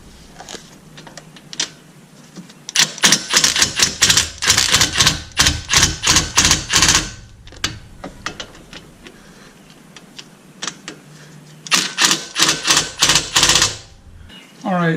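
Pneumatic impact gun on a low setting driving bolts on a Porsche 911 front brake job, in two loud rattling bursts of several seconds each separated by a quieter pause, close up in a garage.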